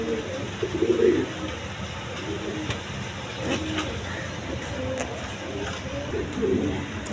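A pair of yellow Bombai pigeons sitting on eggs in their nest, giving low soft coos that rise and fall in a few bursts over a steady background murmur.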